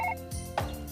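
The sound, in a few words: telephone ringing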